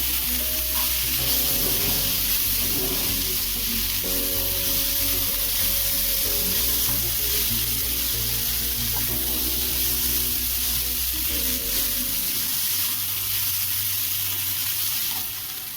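Poha frying in a pan with salt, a steady loud sizzle that runs continuously up close, with a low hum underneath and faint occasional stirring.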